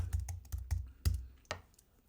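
Someone types a search on a computer keyboard in a short run of about seven crisp, close key taps at an uneven pace, with a slightly louder stroke near the end and no talking.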